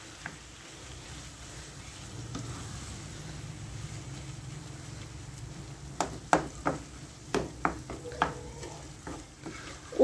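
Minced meat kofta, 500 grams, breaking up and frying with onion in a pan makes a low, steady sizzle, then a run of sharp spoon-stirring knocks toward the end, with no voices.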